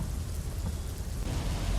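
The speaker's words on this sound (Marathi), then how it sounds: "मुसळधार पावसानं पुण्याला झोडपून काढलेलं आहे." Heavy downpour in Pune, a steady dense broadband hiss of rain on surfaces, loud and continuous with no voices.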